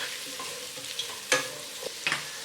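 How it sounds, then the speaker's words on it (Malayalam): Sliced onions and green chillies sautéing in hot oil for a chicken dum biryani, a soft steady sizzle with a few sharp scrapes and clinks of a spoon stirring against the pan. "സവാള ചേർത്തൊന്ന് നല്ലതുപോലെ വഴറ്റി കൊടുക്കാം."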